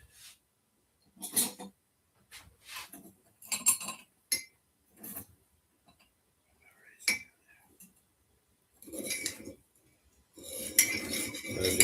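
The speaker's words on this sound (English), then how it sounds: "I'm just stirring the sugar too." A spoon stirs sugar into a coffee cup, giving a series of short, close metallic clinks against the cup in irregular bursts, with brief quiet gaps and a denser clatter toward the end.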